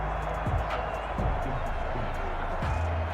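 A stadium crowd at an NFL football game between Los Angeles and Miami roars in a steady, dense wash of noise, with a commentator's voice riding over it.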